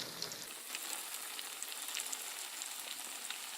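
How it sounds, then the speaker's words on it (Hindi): Mutton chops fry in hot oil with a steady, bright sizzle speckled with sharp little pops and crackles, heard close and alone. "इसी तरह हम बाकी की चॉप्स को भी फ्राई कर लेंगे।"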